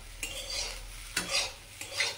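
Potatoes and eggplant fry in a pan with very little oil while a utensil stirs them in three quick scraping strokes, with a faint sizzle close by underneath.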